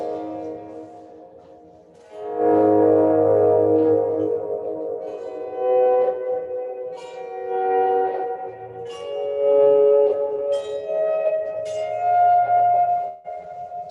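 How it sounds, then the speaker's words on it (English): Melodic instrument run through a large reverb, producing a spacious, atmospheric, synth-like tone: sustained ringing notes that swell and overlap with long washy tails, fairly loud and alone with no voices. "if you put on like a big reverb or something"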